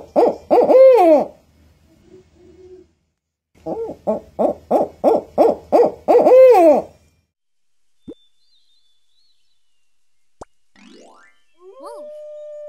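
Owl hooting in repeated, evenly spaced calls: a short burst of hoots near the start, then a longer run of about eight clear hoots, followed by a few faint isolated clicks and a brief rising tone.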